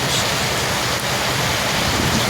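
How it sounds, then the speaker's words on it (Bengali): Sudden heavy rain pours down, heard near and loud as a dense, unbroken roar that stays level throughout, with no voices. "বৃষ্টি আর বৃষ্টি ভালোই পড়ছে হঠাৎ করে।"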